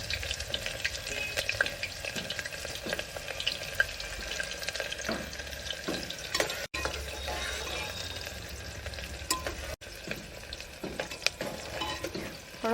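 Onions fry in a pan with steady crackling sizzle, stirred now and then with scraping clatters, close and continuous without talk.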